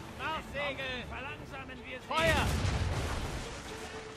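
Ship cannons fire in a naval battle in Assassin's Creed Rogue, a heavy booming barrage with a broad rumbling tail after a stretch of talking, then lingering low noise.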